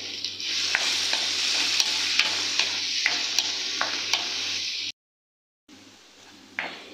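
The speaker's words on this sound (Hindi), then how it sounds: "अब हम इसमें डालेंगे ये वाले कच्चे आम। इनको भी 2 से 3 मिनट के लिए पकाएंगे" Raw mango pieces cook with kalonji seeds in a pan, a bright continuous sizzle broken by regular spoon scrapes and taps, cutting briefly to silence before the frying resumes.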